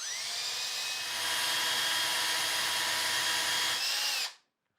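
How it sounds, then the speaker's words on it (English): A handheld power drill bores out a hole in a door, a loud steady whine running continuously for about four seconds before cutting off abruptly. "and I'm just gonna drill it out"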